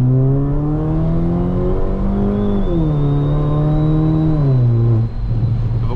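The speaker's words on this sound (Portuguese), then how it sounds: "Vamos sair aqui no launch, ó. Pezão já tá todo no freio, controle de tração desabilitado, câmbio no S. Só pisar tudo, ó." A car launches hard with traction control off and the gearbox in S mode, its loud engine rising through gears with two distinct shifts where the pitch drops before climbing again, close and alone without talk.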